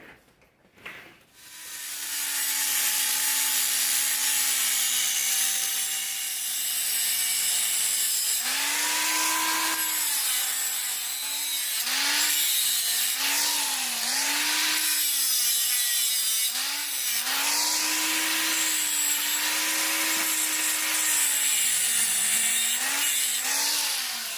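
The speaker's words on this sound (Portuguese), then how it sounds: "Eu vou passar a esmerilhadeira aqui e vou abrir um chanfro aqui." An angle grinder cuts a bevel into an aluminium weld as joint preparation for TIG welding, a loud steady whine held close for over twenty seconds, its pitch dipping and rising as the disc bites into the metal.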